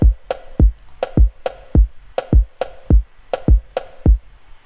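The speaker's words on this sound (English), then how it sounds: "The second thing I did is create that little percussion sound here." A short percussion sample in an FL Studio beat clicks in a syncopated pattern between steady deep kick thumps, forming a bouncy, dry loop with no voices.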